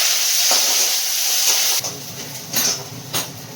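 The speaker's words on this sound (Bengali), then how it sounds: "পেঁয়াজটা ভাজা ভাজা হয়ে গেছে" Onions and slit green chillies with nigella seeds sizzle in hot oil in a wok, a steady bright hiss that swells in short bursts as the pan is stirred, close and fairly loud with no talking.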